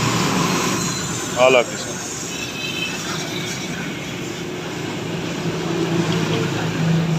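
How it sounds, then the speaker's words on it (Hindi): A pressure washer sprays water onto a motorcycle during a service, making a steady, loud, rushing hiss throughout, while someone speaks briefly over it. "ਲਓ ਜੀ ਪਾਣੀ ਵੱਜਣ ਲੱਗਾ ਪ੍ਰੈਸ਼ਰ ਦੇ ਨਾਲ"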